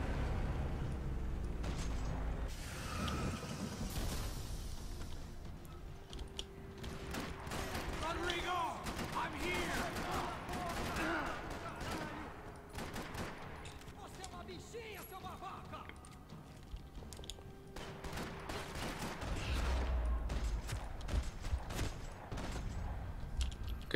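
Bursts of gunfire and mechanical clatter come from the Max Payne 3 video game, scattered over a tense in-game soundscape with heavy low booms at the start and near the end.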